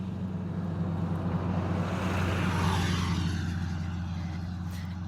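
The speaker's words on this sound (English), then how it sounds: "I'll let this truck pass here for a minute." A truck rumbles past nearby, its broad engine drone swelling and then fading, with no talking.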